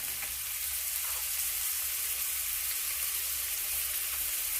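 Onions and raw chana dal frying in a pan, giving a steady, even sizzle with a faint low hum beneath it and no talking.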